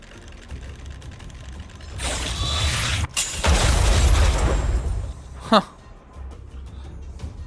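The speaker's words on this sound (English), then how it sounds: "We wiped them all out in a single explosion!" A sudden explosion in the Honkai Star Rail video game wipes out enemies: a loud, rumbling blast with mechanical clatter that swells for several seconds, then gives way to a brief sharp burst and quieter game ambience.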